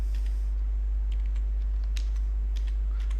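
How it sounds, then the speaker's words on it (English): Typing on a computer keyboard: a few faint, scattered keystroke clicks over a steady low electrical hum, with no talking. "So I will type here"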